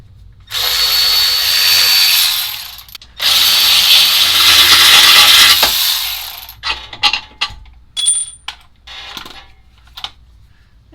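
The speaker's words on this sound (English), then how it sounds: "My god, I have power tools." A power tool removing bolts from a Mazda2 during a dogbone mount refresh whirs loudly in two long bursts, then short spins and metallic clinks follow as small parts drop and rattle nearby.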